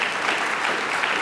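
Audience applause at a corporate partnership kickoff event, a steady wash of many hands clapping throughout, fairly even and moderately loud with no voices.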